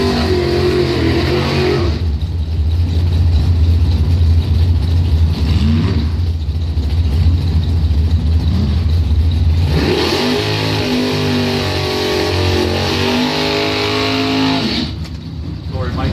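Drag racing Camaro engines rev loudly at a top doorslammer race at Bonfire Salute, a steady roaring drone that shifts pitch partway through, with an announcer talking over it throughout.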